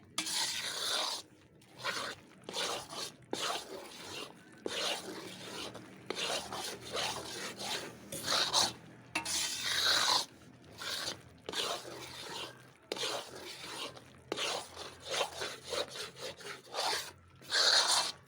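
Gram flour dry-roasts in a pan for flaxseed ladoos while a spoon stirs it in repeated rhythmic scraping strokes, close and fairly loud, with short pauses between bursts and no talking.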